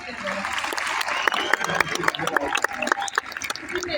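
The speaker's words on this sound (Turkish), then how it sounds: "Bir alkışla." A burst of applause from a crowd, dense clapping with scattered sharper claps, continuing for several seconds.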